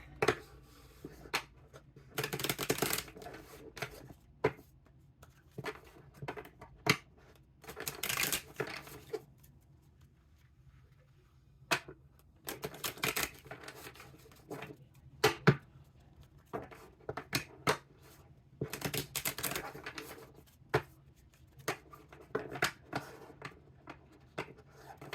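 Tarot cards being shuffled by hand, bursts of crisp riffling and slapping separated by short quiet pauses, close and fairly soft with no voices.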